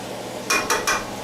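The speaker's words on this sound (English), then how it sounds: "Stir tomato sauce in." Metal spoon scraping and clinking against a cooking pot three times in quick succession while tomato sauce is stirred into Moroccan harira soup, close and fairly loud over a quiet background.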